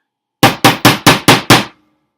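A hammer flattens a metal ring set into a puppet's foot in a workshop, six sharp ringing blows in a quick, even rhythm, close and loud with silence around them.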